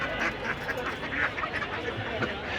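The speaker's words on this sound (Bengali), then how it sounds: "এখানেও অনেক সুন্দর সুন্দর দেশি হাঁস বিক্রি হচ্ছে" Local ducks for sale at a traditional village poultry market in Bangladesh, repeated nasal quacks from several birds amid busy market chatter and crowd noise.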